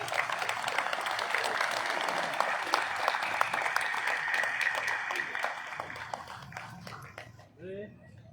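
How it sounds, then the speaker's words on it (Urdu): Audience at a high school prize-giving function applauding a student's marks, a dense sustained clapping that fades out near the end as a voice begins speaking. "اس کے لیے بھرپور تالیاں آنی چاہیے جی"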